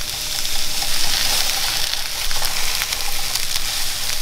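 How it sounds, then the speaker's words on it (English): Onions frying on an Australian barbecue at a sausage sizzle, a loud, close, continuous hiss and crackle with occasional stirring scrapes. "something else that takes a while to cook is the onions. So let's throw those in."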